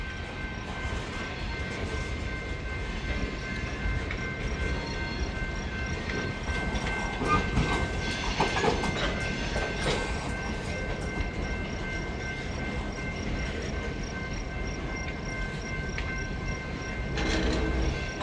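Train locomotives rumble closer along the rails at a wye near Oconto Falls, a steady broadband roar with a faint sustained horn-like tone, building slightly mid-way and holding loud throughout.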